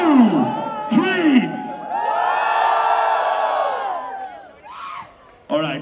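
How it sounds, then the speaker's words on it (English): College fest crowd at a film promotion event cheering and whooping loudly, with rising shouts and sustained yelling swelling and fading in bursts, close and dense, alone without speech. "please put your hands up and make some noise."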